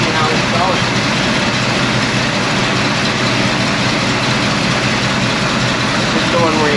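A 1972 Chevelle with a 396 big block V8, freshly fuelled and idling, throws out a loud, dense and steady rumble from close range that holds evenly from start to finish.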